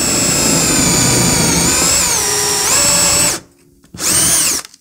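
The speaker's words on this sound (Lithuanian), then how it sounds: "Žiūrėkit, gręžiam." A power drill whines loudly and steadily while drilling a pilot hole in a wooden furniture panel through a drilling jig, its pitch dipping as it bites, then cuts out briefly before a second short burst.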